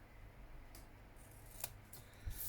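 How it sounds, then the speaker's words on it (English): Scissors cut a piece of card in half for a card journal, with a few faint, separate snips over a quiet room background. "I'm just going to cut it sort of in half"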